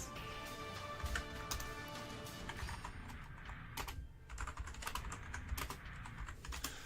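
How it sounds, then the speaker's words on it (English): Computer keyboard typing sits close to a microphone during a live game stream, a busy run of clacking keystrokes over a low background hum, irregular but nearly continuous with a brief lull midway. "I don't think very successfully getting rid of the sound of the keyboard"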